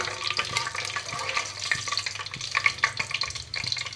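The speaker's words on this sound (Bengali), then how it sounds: "খুন্তিটাই জল ছিল, সেই জন্য এটা আওয়াজ হচ্ছে চচ্চর চচ্চর চচ্চর করে।" Whole spices hit hot oil in a home kitchen, crackling and spitting as a wet spatula stirs them, a steady busy sizzle with scattered sharp pops throughout.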